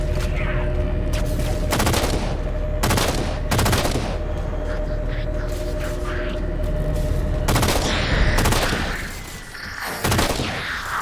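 Heavy automatic gunfire and booming blasts from the Halo 4 campaign during a gondola ride, loud rattling bursts repeating throughout with a constant mechanical hum underneath and explosions near the end.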